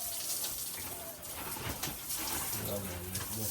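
Water sprayed from a hose while washing out a pig pen at a small farm in Nepal, a steady broadband hiss running throughout, close by, with a voice talking over it and faint grunting-like low tones late on.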